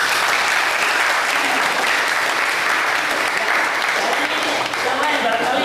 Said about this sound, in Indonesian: tepuk tangan kembali